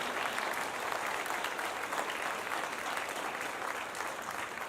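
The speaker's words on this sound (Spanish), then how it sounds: "Podemos dar un fuerte aplauso a eso," A church congregation gives a loud, continuous round of applause, a thick wash of many hands clapping that holds steady from start to finish.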